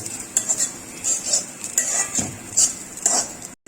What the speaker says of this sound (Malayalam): ഇനി നല്ല ഗോൾഡൻ ബ്രൗൺ ആവണ വരെ വറുത്തെടുക്കണം